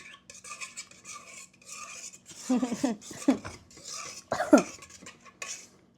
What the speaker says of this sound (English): So now mix. Give it a little mix.